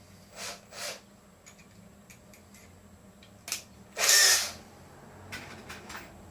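A power drill drives 2.5-inch stainless steel screws into wood inside a shuttle bus RV conversion: short whirring bursts, then one louder sustained whine, with quiet pauses in between and no talking.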